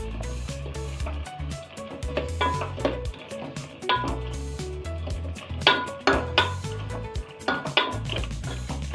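A spoon scrapes and clinks against a metal cooking pot while vegetable pulao with turmeric and tomato is stirred. The clatter is steady and close, with sharper knocks toward the end and no talking.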